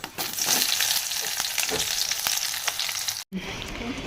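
Onions sizzle and crackle in hot oil as a tempering for a festive home meal, curry leaves already in the pan, a steady close frying hiss with brief stirring clicks and a short break near the end.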